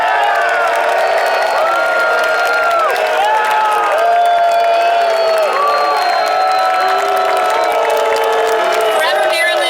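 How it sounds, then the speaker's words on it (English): A crowd at the outdoor Palm Springs unveiling ceremony for a Marilyn Monroe statue gives loud, sustained cheering with whoops and shouting voices, a steady wall of sound from start to finish. "So can we give a round of applause to all of the council members"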